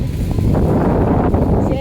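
Strong wind roars and buffets the microphone in a continuous low rumble, with a faint voice briefly audible underneath.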